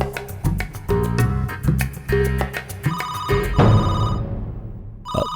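A landline telephone rings in repeated electronic bursts, loud and close, with no talk over it, ending in a short silence before one final burst.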